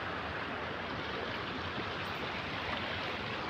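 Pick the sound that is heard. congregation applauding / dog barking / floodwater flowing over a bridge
floodwater flowing over a bridge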